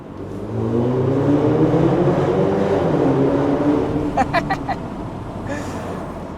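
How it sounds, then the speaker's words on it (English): A BMW X3 30e plug-in hybrid fitted with a DCE Parts catback exhaust drives through a tunnel, its engine note swelling and falling in loud, echoing revs, followed by a few sharp clicks. "We're gonna also head into the tunnels and see how that car sounds then."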